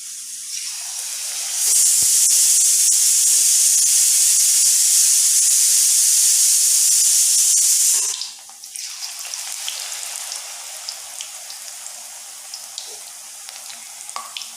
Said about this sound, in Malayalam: അപ്പോൾ നമുക്ക് ഇതിനകത്തേക്ക് നമ്മുടെ കോളിഫ്ലവർ നമ്മുടെ ആ ഒരു ബാറ്ററിലേക്ക് മിക്സ് ചെയ്തിട്ട് നമുക്ക് ഫ്രൈ ചെയ്യാൻ വേണ്ടിയിട്ട് ഇടാം.